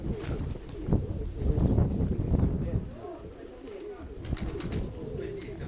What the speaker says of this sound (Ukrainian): Большие голуби